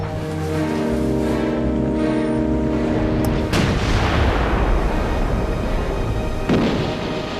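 Naval guns fire in a sea battle, heard as heavy booming blasts over a constant loud rumble, with a sharp report near the middle and another later, and no talking.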